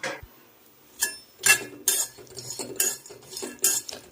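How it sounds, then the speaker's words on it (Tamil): Almonds are stirred while dry-roasting in a pan: a spoon scrapes and clinks against the metal in separate loud strokes, with the nuts rattling between short quiet pauses. "இப்போ வந்து நம்ம பாதாமை இளவரப்பாக வறுக்கிறோம்."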